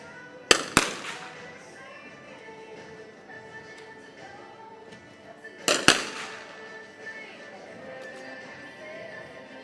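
Two sharp, loud shots about five seconds apart from an air rifle or similar competition rifle at a World Cup shooting event in Bangkok, each cracking out over a quiet indoor range hum.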